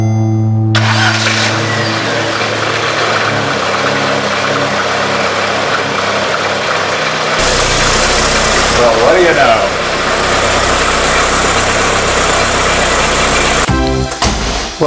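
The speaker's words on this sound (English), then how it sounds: "now the engine is back in place, everything is attached and buttoned up, and it's time to turn the key" A Saab 900 with a 5-speed gearbox is started after its engine was refitted: the starter cranks briefly, then the engine catches and settles into a loud, steady idle with a blip of revs near the end.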